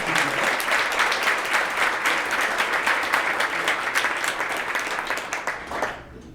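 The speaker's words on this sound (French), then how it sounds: "Peut-être une main d'applaudissement pour ces donateurs-là." Audience applause for photo donors at a society's centennial recognition evening, brisk, even clapping from many hands that carries on steadily, then fades out near the end.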